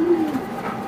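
A black checker racing pigeon gives a short, close coo, a single low throaty phrase lasting under a second, with no talking.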